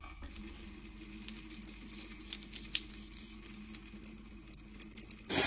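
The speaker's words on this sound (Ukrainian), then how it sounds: "Вот такая вода идет каждый день, если ее дают." A household tap runs steadily in an eastern Ukrainian home, its water splashing and hissing into a sink at close range, alone without talk, with a sharp louder gush in the final moment.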